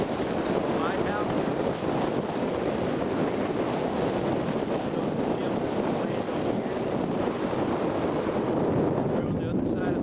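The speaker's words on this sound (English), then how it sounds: "I know the wind is deafening." Strong wind buffeting a camera microphone outdoors near a lighthouse and dike by the water, a loud continuous rumbling roar with gusty fluctuations and no clear voices.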